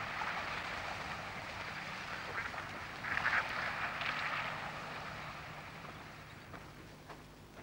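Garganey ducks call in a short burst of quacks around the middle, rising over a steady outdoor background hiss with no talking.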